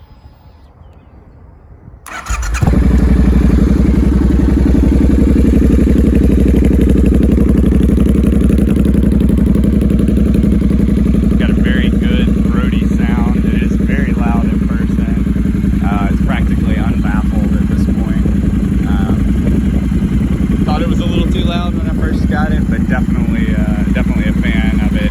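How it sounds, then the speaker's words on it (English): A 2016 Triumph Thruxton R motorcycle with Aero Headers and Cone Engineering pipes starts up with a quick crank and settles into a loud, steady, close idle while a person talks over it. "I'll do a quick start up here so we can hear those Aero Headers and the Cone Engineering pipes."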